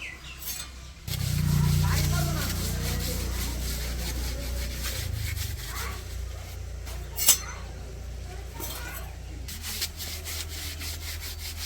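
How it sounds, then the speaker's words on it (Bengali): A pair of pangas fish are rubbed with leaves to scrub them clean in a village kitchen, giving a continuous, steady scraping and rubbing sound close by, with occasional light clinks. "মাছগুলা ঘষে পরিষ্কার করে দেই"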